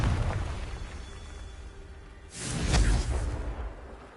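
A Confringo spell blast in Hogwarts Legacy, a rumbling background that breaks into a sudden whooshing fiery burst about midway, then fades into a lingering roar.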